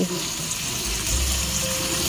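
Water pours steadily into a pot of lechon paksiw, a braised roast pork dish, making a continuous close gushing, splashing sound on its own for about two seconds.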